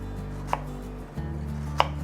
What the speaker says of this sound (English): we got our vegetables all cut up